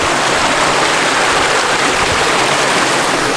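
A stream at a backpacking trail's water source rushes loudly and steadily, with dense broadband hiss and no pauses. It sounds close, and no voices are heard.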